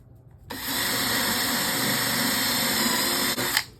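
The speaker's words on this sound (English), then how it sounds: "I just need to drill a couple of holes in here so I can get my jigsaw bit started" Power drill fitted with a 3/8 inch bit boring holes in wood while building a plyo box: one steady, close, high-pitched whine starting abruptly and holding for about three seconds before cutting off.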